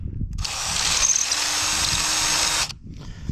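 A power drill boring into a plastic light housing for a 1969 CJ5, one steady whine lasting about two seconds, close and alone, then stopping abruptly.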